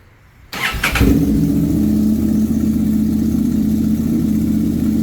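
A Honda Transalp XL750 motorcycle with an aftermarket exhaust cold-starts after near silence: a cranking burst catches into a loud, throaty idle that settles into a steady, close-up rumble.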